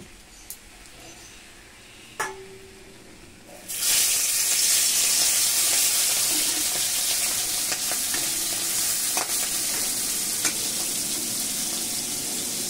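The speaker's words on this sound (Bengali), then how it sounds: "প্রথমে আমি চিংড়ি মাছগুলো কড়াইতে ছেড়ে দেবো, তেলে ভেজে নেব।" Prawns dropped into hot oil in a wok burst into a loud, steady sizzle that fills the space, following a quieter stretch with a few small knocks.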